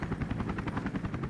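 A helicopter in the video game 007 Agent Under Fire thumps with fast, regular rotor beats, loud and steady throughout the brief moment.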